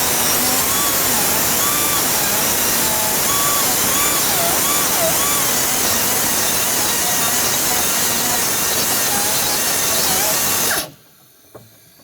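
A worn cut-off wheel grinds through a rivet head inside a 2001-2005 Ford Explorer Sport Trac door, a loud continuous whine and rasp held for about eleven seconds before cutting out abruptly into near silence.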